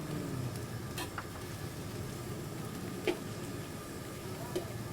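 Rice tossed and stir-fried in a hot pan for nasi goreng at a street food stall, a steady close sizzle with scraping stirs and a couple of sharp metallic clinks.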